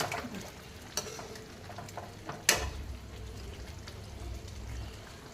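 Pre-cooked goat head meat frying in a pan with pepper and spices, a soft sizzle under a few scraping stirs and one sharper clatter midway, fairly quiet and close.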